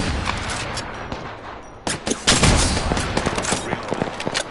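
Rapid bursts of gunfire crackle through a shooter video game, in uneven volleys that grow denser and louder partway through, with sharp individual shots over a busy background.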